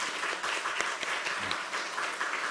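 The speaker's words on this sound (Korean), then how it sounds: "한번 박수로 축복해 주시겠습니다." A church congregation claps during a Sunday worship service, a short burst of steady, moderately loud applause with no speaking.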